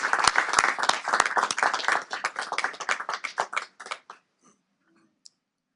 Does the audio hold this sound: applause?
yes